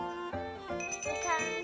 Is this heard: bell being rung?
yes